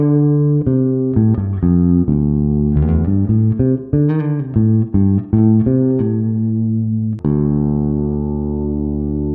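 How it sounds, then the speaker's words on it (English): An electric bass plays a run of notes through a Darkglass Anagram pedal, its modulation effect making the tone wobble, ending on one long sustained note; there is no talking. "as I add the modulation, what it's going to do is it's going to take the signal and it's going to modulate it through sound wave"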